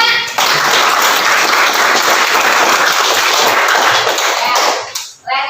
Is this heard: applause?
yes